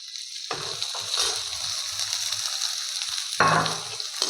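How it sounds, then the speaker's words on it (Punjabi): Finely chopped onions fry lightly in a pan with garlic for pasta, giving a steady close sizzle with bursts of stirring and scraping, then a louder crackle near the end. "ਪਿਆਜ਼ ਨੂੰ ਵੀ ਹਲਕਾ ਜਿਹਾ ਭੁੰਨ ਲਾਂਗੇ"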